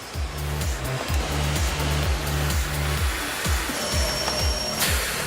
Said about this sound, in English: This cleaner sucks fine.